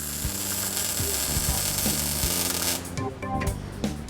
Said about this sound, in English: Then they're removed and fully welded using this rotary welder.